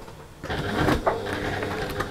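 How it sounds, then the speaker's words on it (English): Sewing machine running to stitch a short seam on a fabric trick-or-treat bag, a steady mechanical whirr lasting about two seconds after a brief quiet start, close and moderately loud with no talking. "And we'll just start machining."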